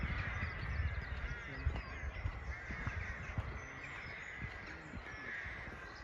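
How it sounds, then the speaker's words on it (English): A crowd of crows caws loudly and repeatedly near Stonehenge, harsh overlapping calls layered over a steady outdoor wash of wind and background noise, with no talking. "listen to the sounds of the crows going crazy"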